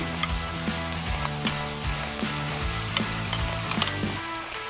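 Pork seasoned with Backyard Grillers rub cooking in a hot pan on a disc cooker, giving a continuous close sizzle with scattered pops and light stirring clicks, no voices.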